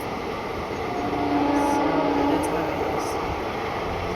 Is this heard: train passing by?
yes